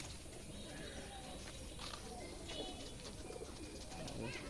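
Pigeons kept at home, soft repeated cooing among faint chirps over a constant background hiss, fairly distant and quiet throughout.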